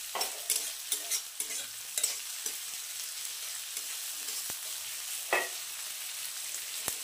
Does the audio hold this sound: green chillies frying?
yes